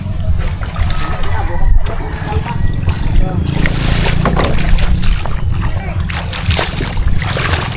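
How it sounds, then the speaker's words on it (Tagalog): Strong sea waves slap and splash against a small fishing boat in rough weather, with a loud constant low rumble of wind and engine beneath irregular bursts of water spray. "Malakas ang alon, guys."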